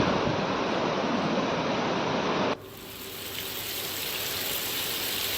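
Floodwater rushes through village roads after heavy rain in Gir Somnath, Gujarat, making a loud, dense, continuous roar. The sound drops abruptly midway and then carries on as a slightly thinner, steady rushing flow.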